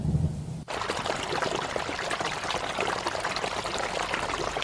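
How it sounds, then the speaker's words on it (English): Water from a flash flood suddenly bursts in and rushes loudly and continuously over a trail, a dense roaring torrent that stays close and unbroken. "we hear and then see a rush of water from a flash flood"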